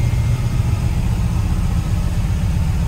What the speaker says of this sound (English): and you can hear that cam